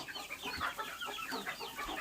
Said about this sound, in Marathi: आपल्या पूर्ण कोंबड्या बघा किती मस्त चाललेले आहे